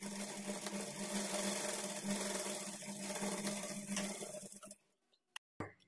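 A sewing machine stitches the armhole darts of a blouse at a quarter-inch margin, running steadily and close for about five seconds before stopping abruptly, followed by a couple of faint clicks.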